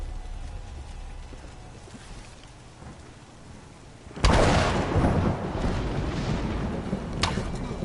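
Thunder from a lightning strike in the Tomb Raider game breaks suddenly over steady rain, a loud crack and rumble midway, followed by a second sharp burst near the end.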